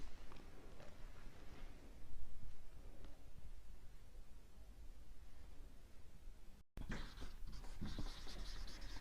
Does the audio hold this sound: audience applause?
no